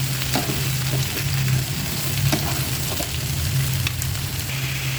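Sliced papaya and garlic sizzle loudly in a pan as they are stirred, with a continuous hiss and the scrape of a spatula, and a low hum underneath.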